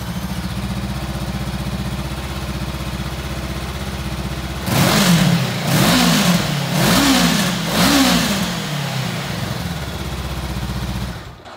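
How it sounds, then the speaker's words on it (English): A Honda CBR500R ABS motorcycle engine idles, then gets revved several times in quick surges before settling back to a steady idle, close by. "Great sounding engine, really nice, picks up through the rev range"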